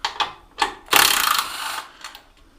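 A power tool gun works on a custom monkey bike motorcycle sitting on a stand: a few short ratcheting bursts, then one longer loud whirring run, close by with nobody talking.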